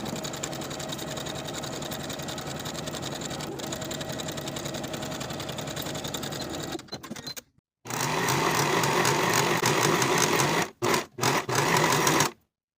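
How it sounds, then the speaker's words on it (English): A sewing machine stitches a long side seam on colorblock women's pants with a 5/8 inch allowance, running loud and steady for about seven seconds, stopping briefly, then whirring again in several closely spaced bursts before falling silent. "Sew this seam from the top to the bottom of the pant with a 5/8 inch seam allowance"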